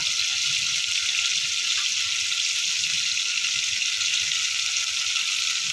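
Water is poured into a pot of rice mixed with ginger-garlic paste, a continuous, even rushing splash that stays loud and unbroken for several seconds, with no talking.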